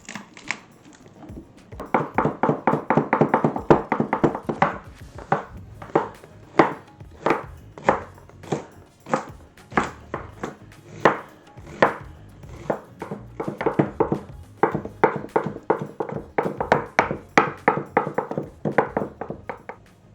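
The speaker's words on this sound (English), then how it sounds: "I am going to dice an onion, chop up carrot and celery, mince some garlic, and chop some rosemary and thyme" A knife on a cutting board dices onion and chops carrot, celery, garlic, rosemary and thyme. The blade lands in close, crisp taps that come in fast bursts with short pauses between them, and no one speaks.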